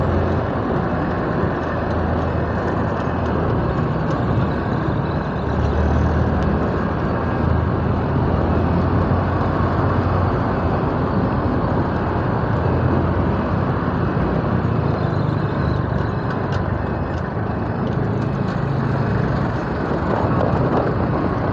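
Heavy road traffic of trucks and cars crawls past road works, making a constant loud rumble of engines and tyres that holds steady and close without a break.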